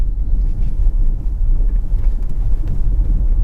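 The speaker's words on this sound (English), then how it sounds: "It's time to take it down our neighborhood bumpy road. See how it handles the potholes and speed bumps and various patches." A Genesis GV60 electric SUV rolls over potholes, speed bumps and patched pavement on a bumpy neighborhood road, heard as a loud, steady low rumble of road and tire noise with soft thumps and no engine note.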